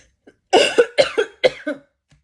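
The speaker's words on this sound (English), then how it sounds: "That's another thing that's going to stay. It's that cough." A burst of harsh, close coughs from a hospital patient after gallbladder surgery, several in quick succession, loud and alone against silence.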